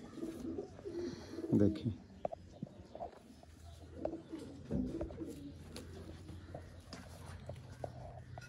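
A Sialkoti breeder pigeon coos softly in a few low, throaty bursts close by, with someone talking over it and faint handling noise.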